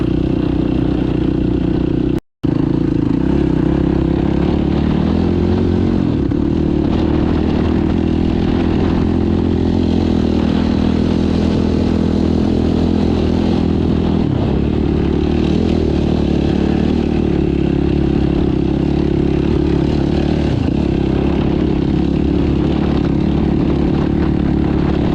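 A 2021 Yamaha YFZ 450R ATV fitted with an HMF performance exhaust rides a trail, its engine a loud, close, continuous single-cylinder drone that rises and lugs slightly with throttle changes, with one brief dropout near the start.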